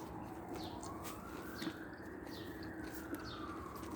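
A police siren wails somewhere in Riyadh, a steady rising and falling tone at moderate distance, with birds chirping faintly.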